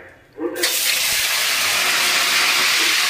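Spices and coriander leaves hit hot oil, a sudden loud burst of hissing sizzle after a brief quiet moment, then a sustained, steady roar of frying right up close.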